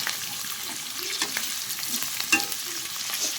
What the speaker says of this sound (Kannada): ಇದ್ರ ಜೊತೆನೇ ಹಾಕ್ಕೊಂಡು ಫ್ರೈ ಮಾಡ್ತೀಯಾ?